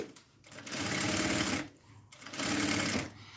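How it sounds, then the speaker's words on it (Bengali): Sewing machine stitching three fabric pieces together for a kameez, running in two long steady bursts with a short pause between, close and fairly loud. "এই তিনটা কাপড়ে আমি জয়েন দিয়ে নিচ্ছি"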